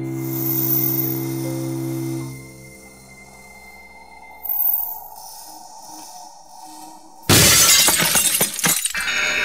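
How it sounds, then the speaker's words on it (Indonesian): Glass shatters suddenly and loudly indoors, a bright crashing burst with scattering fragments that follows a stretch of quiet humming tones and lasts about two seconds before cutting off. "Kok kacanya bisa pecah?"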